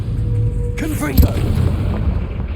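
A Confringo fire-blast spell detonates in the Hogwarts Legacy video game: one sharp, loud burst over a low rumbling bed, with voices and effects around it.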